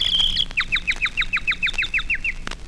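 A 1930s French radio comedian imitates a bird call, a rapid series of about a dozen sharp descending chirps, each a quick whistled swoop, loud and close with no other voices.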